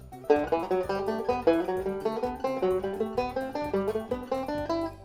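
Six-note patterns picked on a single guitar string run back to back with no pause between them, a steady stream of clear plucked notes with an even rhythm and no talking.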